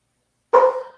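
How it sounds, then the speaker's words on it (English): A pet dog at home gives a single short, sharp bark, close and loud, with no talk over it. "I have a dog, so I apologize for the background noise."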